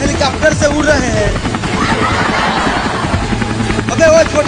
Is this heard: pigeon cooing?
no